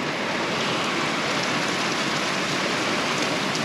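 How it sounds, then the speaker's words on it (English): Steady, dense rainfall hisses continuously, heavy and close, with no voices. "Listen to this rain."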